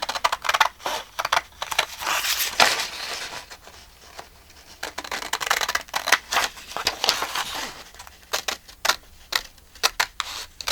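Scissors cutting through journal cover material, a string of crisp snips and crunching cuts in irregular bursts, close and fairly quiet, with a short lull in the middle.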